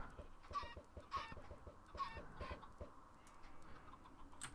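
Chickens in the video game Minecraft: a run of short, clipped clucks repeating in quick bursts, close and clear, with a few higher squawks breaking through.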